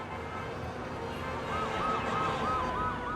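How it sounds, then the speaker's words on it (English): An ambulance siren wails past in a busy city street, its rising and falling tone looping steadily over loud ambient traffic noise for the second half. "And a passing ambulance siren screamed at 120."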